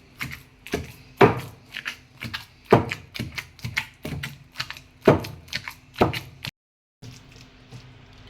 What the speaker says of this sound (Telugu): అయిపోయిన తర్వాత లాస్ట్కి ఉల్లిగడ్డ వేసి దంచండి